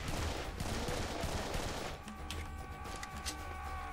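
Pistol gunfire in the video game Serious Sam 3 BFE: a rapid volley of gunshots crackles for about two seconds, then several sparser single shots follow against a humming background.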